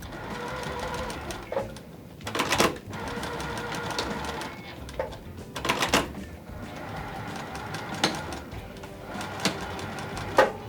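A sewing machine stitches pleats into a puff quilt, running in close, rapid mechanical bursts with brief pauses and clicks between runs.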